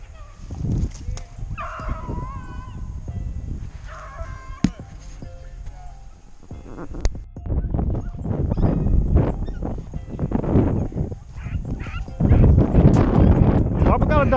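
A hunting dog barks a few times amid outdoor commotion during a rabbit hunt, with people shouting and talking over it and scattered thumps and rustling nearby.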